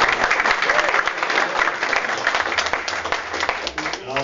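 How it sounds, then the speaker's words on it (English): A crowd at a live DJ controller demo applauds the sound and stage lighting crew, a close, dense burst of clapping and cheering that holds steady for several seconds, with voices mixed into the noise. "a round of applause for Pro Sound and Stage Lighting, Pro Music Group for putting this thing on"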